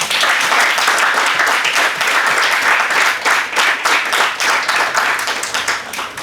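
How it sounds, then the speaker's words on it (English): A big round of applause from an audience at a National Education Day session after an inspiring talk, loud, dense and sustained clapping filling the whole clip. "So I think you all have to give a big round of applause."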